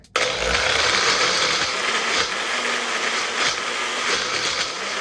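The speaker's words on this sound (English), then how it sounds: "Plug in your blender and blend the mixture together." A blender whirring steadily as it purees a chocolate pudding mixture, a continuous close, loud mechanical drone that starts abruptly and runs unbroken without any talk.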